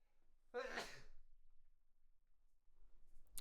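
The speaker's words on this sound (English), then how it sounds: "my sneeze has, it's decided to come back" A single close, forceful sneeze bursts out in a quiet room during a live dev stream, then fades into a soft breath and faint rustle.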